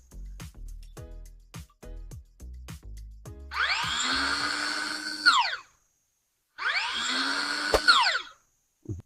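An imax cordless battery lawn mower's electric motor whines up to speed, holds briefly and winds down, twice in a row, after a series of sharp clicks and knocks; close and fairly quiet, with no talk.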